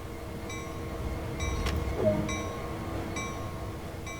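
Locomotive rolling along track in the Train Sim World 2 video game: a steady low mechanical rumble with faint evenly spaced clicks and a brief rise mid-clip, moderately loud and with no talk.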